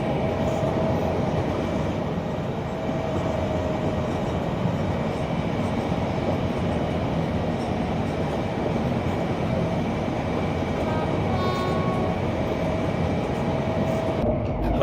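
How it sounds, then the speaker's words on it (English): Caledonian Sleeper train with Mark 5 coaches rolling from Rugby to Euston in Train Simulator Classic, a steady rumbling drone of wheels and carriage noise with a faint whine, continuous throughout. "we are in the Caledonian Sleeper with the Mark 5s"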